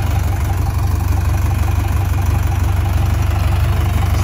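A tractor pulling a heavy, fully loaded sprayer idles in a field while spreading liquid fertilizer on wheat, its engine giving a loud, steady low rumble up close, even and unbroken, with no speech.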